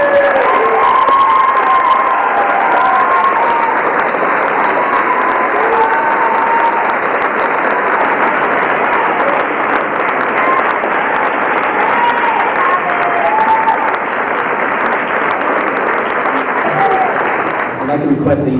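A school awards ceremony audience applauds loudly and continuously, a dense wash of clapping with scattered cheers and children's shouts that runs unbroken throughout.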